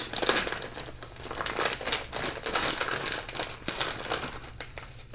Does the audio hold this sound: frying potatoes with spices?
no